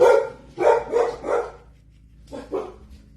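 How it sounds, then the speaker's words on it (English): A dog barks several times in quick succession, pauses, then lets out two more barks, close and loud. "Oh, sorry about the barking."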